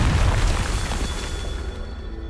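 A Confringo blasting spell detonates in Hogwarts Legacy with a loud, deep boom that rumbles and fades across about two seconds, with no voices.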